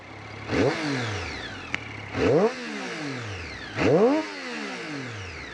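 A 2013 Triumph Street Triple 675 R motorcycle revved three times at idle, each blip rising sharply in pitch then falling back, close and loud outdoors, with a brief click between the first two revs.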